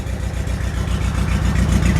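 A diesel car with its DPF removed idles steadily up close, a low rhythmic engine thrum with a faint pulsing beat and no voices, holding an even level throughout.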